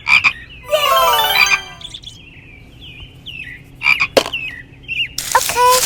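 A frog croaks in loud, close bursts, with a rapid rattling trill followed by shorter calls and squeaks, all over a low steady background hum and with nobody talking.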